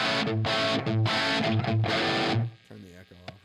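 Overdriven electric guitar through a Proto Amp prototype amplifier at an alpha-stage gear demo, with loud, dense distorted chords and single notes played in short rhythmic bursts that cut off and fade near the end.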